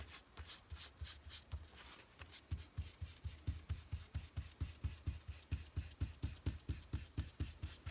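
Tissue paper is rubbed across a paper drawing to blend it, producing close, steady, rhythmic swishing strokes that repeat about three times a second, with no voices.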